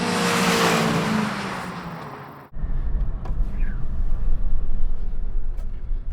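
Volkswagen Golf GTI cars of different generations drag racing, a loud broadband engine and wind roar that cuts off abruptly, followed by a rumbling, blustery engine drone close by.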